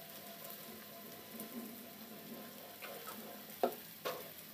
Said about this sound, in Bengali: দু থেকে 3 মিনিট আলুটা ভেজে নেব।